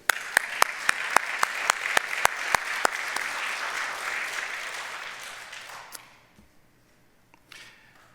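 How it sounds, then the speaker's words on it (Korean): A church congregation bursts into applause, loud and dense at first with a few sharp close claps on top, then thinning out and fading to near silence over several seconds. "그럼 또 한번 박수해 보세요."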